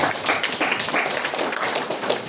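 Brief, dense applause from a crowd at an Indonesian Democratic Party anniversary gathering, steady and fairly close for a couple of seconds.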